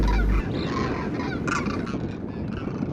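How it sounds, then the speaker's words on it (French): Siberian geese, also called brent geese, honk in a flock, with a dense overlapping chorus of nasal calls close to the microphone and a few louder honks standing out near the middle, no talking. "L'oie de Sibérie, aussi appelée bernache, est un animal grégaire, marin et essentiellement herbivore."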